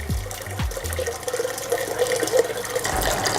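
Rinse water at about 75 °C is poured for home beer brewing, a continuous near splashing stream with a couple of knocks at the start and no voices.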